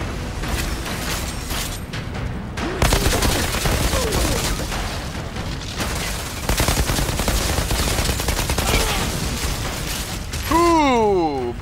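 Gunfire in the shooter Outriders: rapid automatic bursts and single cracking shots, loud and close, mixed with mechanical clanks and a blast, with someone speaking over the fight.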